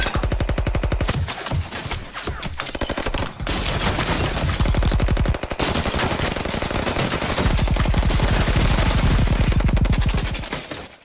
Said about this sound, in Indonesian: Tiba-tiba saja mereka diserang oleh pasukan Morello yang membawa senjata dan granat.